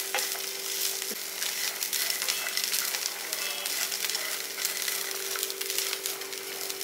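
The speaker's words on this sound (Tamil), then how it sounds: "சிறுதியிலே வந்து தேங்காயை நல்லா வதக்கி விடுங்க நெய்யிலேயே." Grated coconut sautéing in ghee for kaaparisi, a dense, continuous sizzle and crackle that stays close and steady throughout with no voices.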